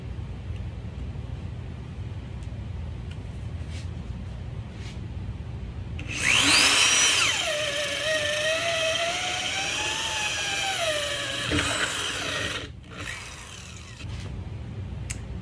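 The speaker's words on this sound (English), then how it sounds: "Now I'm going to drill 3 holes" A loud whining power drill runs steadily for about six seconds, drilling a hole, its pitch rising and dipping as it bites, then cuts off abruptly, with faint ambient noise before and after.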